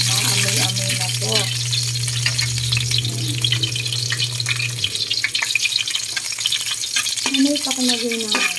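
Garlic dropped into a hot pan sizzles steadily, with a spatula scraping and stirring and a low steady hum running underneath, the frying close and moderately loud throughout.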